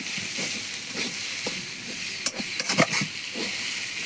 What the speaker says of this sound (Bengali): শাক রান্না করলাম।